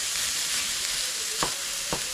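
Broken-up ground pork cooking in a pan for a nacho dip, a loud continuous sizzle with two brief clinks of a utensil near the end, no voices.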